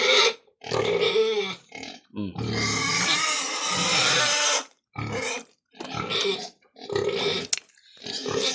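Close, loud pig grunts and squeals in repeated bursts with brief pauses between, one long drawn-out squeal near the middle.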